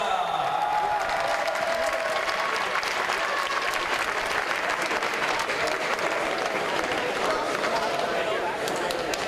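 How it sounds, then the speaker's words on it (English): Sustained applause from a large crowd at a paraclimbing world championship final in Paris fills the whole stretch, dense and even, with faint voices mixed into the roar. "Applaudissements"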